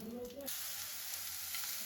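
Steady, soft sizzling of garlic and chilli frying in hot oil, a continuous hiss after a brief faint voice at the start.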